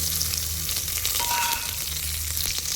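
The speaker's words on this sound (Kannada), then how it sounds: "ಈರುಳ್ಳಿ ಆ್ಯಡ್ ಮಾಡಿ ಚೆನ್ನಾಗಿ ಫ್ರೈ ಮಾಡಿ" Onion frying in a pan with mustard seeds and curry leaves: a dense, even sizzle fills the short stretch at close range, with a few faint stirring scrapes and no talking.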